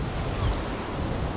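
Waves of the cold Baltic Sea wash ashore on the Baltic Spit in a steady, fairly loud surge, with wind buffeting throughout and no voices.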